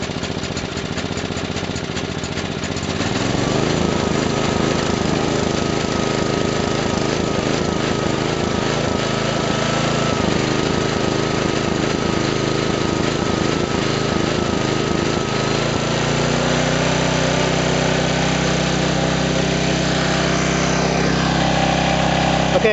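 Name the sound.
flathead four-cycle engine running after pull start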